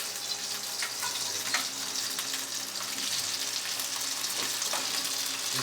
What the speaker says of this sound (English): Saute this real quick because it's already cooked.